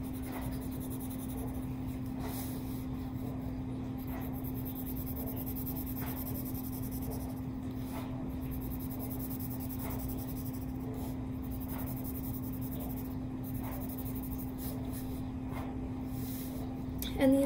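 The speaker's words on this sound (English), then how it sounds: "these fuzzy lines that we're drawing right now are gonna be black" A pencil draws fuzzy lines on paper in a drawing lesson, with soft close scratchy strokes repeating in short bursts over a steady hum.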